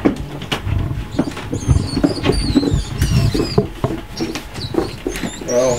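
A single large pet rat scrambling about its enclosure, making busy scratching, pattering and clattering noises, close and fairly loud, in quick irregular bursts with no talk.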